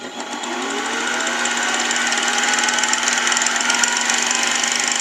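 A mini lathe spins up to about 1500 RPM in high gear with a half-inch end mill mounted slightly off-center, giving a steady, loud mechanical whine and rattle that holds for the whole stretch with no talking.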